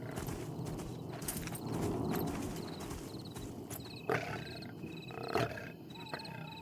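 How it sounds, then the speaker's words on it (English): A big cat panther in the Pantheon: Rise of the Fallen video game growls and roars low and rumbling, swelling midway, with soft footsteps and a few sharp game cues over it. "I love that they have like big cat panther noises"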